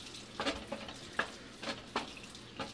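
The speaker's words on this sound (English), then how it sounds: "let's stir the cabbage a bit more" Cabbage being stirred in a pan with shrimp, giving a handful of separate scraping, rustling strokes at an uneven rhythm over a quiet background, close and moderately soft.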